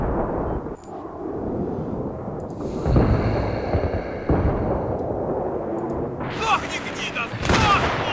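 Gunfire in Battlefield 3, heavy booming shots and explosive bursts scattered across the moment, loud and close, with players talking over the action.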